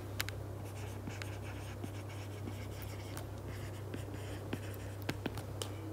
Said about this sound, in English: so I'm just going to write down